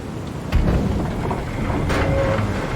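Cold wind and rain in the Star Citizen game world make a steady, loud wash of rainfall with rumbling gusts and a couple of heavier thunder-like surges, with no one speaking.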